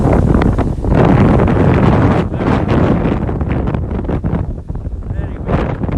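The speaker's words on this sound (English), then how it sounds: "Hear that wind, guys?" Strong winter wind roars through woods, buffeting the microphone in loud, gusty surges with rustling underneath during a walk.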